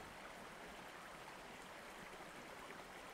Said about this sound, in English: water from inside the mirror flowing out like a waterfall and into a small pool of water